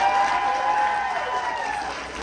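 Crowd at a late-night horror show event cheers and claps in a brief burst of noise during an audience vote, with voices blended into the dense roar.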